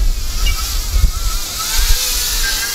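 A FEILUN FX-127 Chaser FPV race drone runs its motors at full throttle, giving a steady, loud high-pitched whine with a bassy rumble that swells and dips a little.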